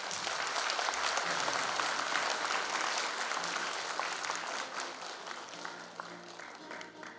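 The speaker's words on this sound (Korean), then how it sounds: "여러분 큰 박수 부탁드립니다." An audience at a Korean lawmaker's constituent report meeting gives sustained, dense applause, loud at first and slowly tapering off.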